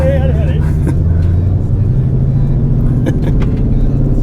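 Shelby GT500 engine revving hard at a car festival, a loud close rumbling roar held steady throughout, with people talking over it.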